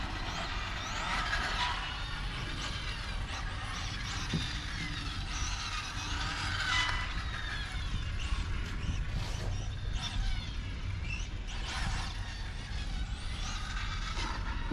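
A KingMotor KM-RX 2018 RC car on 6S power races around a damp outdoor track, its high electric whine rising and falling continuously as it accelerates and slides through turns, heard from a moderate distance.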